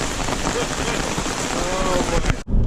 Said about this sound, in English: It is a downpour.